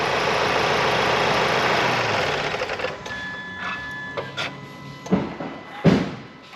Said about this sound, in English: start the engine back up, and that will then fill the oil filter up with oil